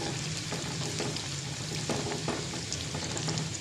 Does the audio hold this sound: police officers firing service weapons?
no